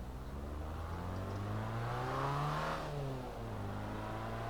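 A Triumph TR3 sports car engine hums steadily while driving on a road near Glenfinnan, its pitch rising then easing as it accelerates, heard from inside the open car with no talk.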